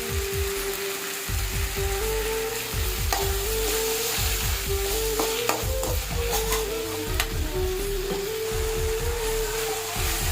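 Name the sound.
tomatoes frying and being stirred in a pan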